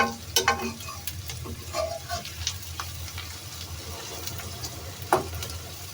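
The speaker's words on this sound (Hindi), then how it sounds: "अब जी जाएगा इसमें लहसुन, इससे ज़रा ये करारा बनता है।" Garlic fries in hot oil in a pan for a lentil and potato pulao, with a soft steady sizzle and scattered crackles and pops, loudest at the start and again near the end.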